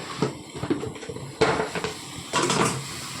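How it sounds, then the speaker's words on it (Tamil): Metal kadai pan set down and handled on a kitchen stove, with oil poured in and mustard and cumin seeds added; three close bursts of clattering and rattling stand out against a low background hiss. "கடாய் வச்சுருக்கு. எண்ணெய் ஊற்றிக்கலாம். அதில் கடுகு சீரகம்"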